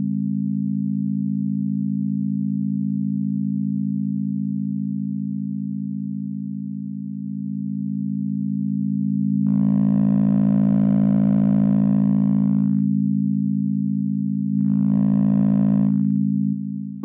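A steady 200 Hz sine tone hums alone throughout, then amplitude modulation at 50 Hz switches on twice, adding sidebands at 150 and 250 Hz and a buzzier, brighter texture before dropping back to the plain tone.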